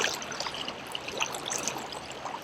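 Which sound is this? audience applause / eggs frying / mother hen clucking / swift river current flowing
swift river current flowing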